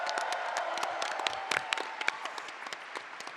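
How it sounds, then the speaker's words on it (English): A crowd applauds steadily, dense clapping with a few sharper claps standing out, continuing throughout without speech. "please keep your applause going for both our teams, Steph, Alex, Jordan, and of course Nick"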